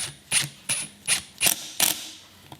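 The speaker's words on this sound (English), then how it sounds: "I'm gonna put my first screw in, and I'm gonna do it on the tight point, the high point of the miter" Screw driven with a Kreg pocket-hole jig into the high point of a glued wooden miter joint: five or six short, bright mechanical bursts in a quick, even ratcheting rhythm, close and fairly loud with no talk.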